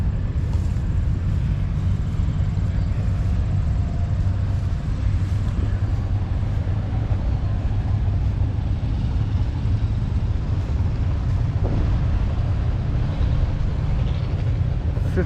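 A John Deere 730 propane tractor idles at an antique farm show, a loud, steady low engine drone that continues without a break.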